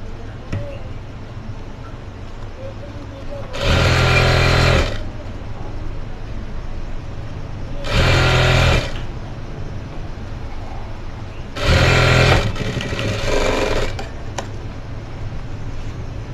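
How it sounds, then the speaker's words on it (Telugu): A sewing machine stitches a round collar neck dress in three separate loud bursts of about a second each, spaced evenly apart, with quieter room sound between them. "ఇక్కడ మనం ఇప్పుడు ఈ చివర్న ఒక కుట్టు వేసేసుకుందాం"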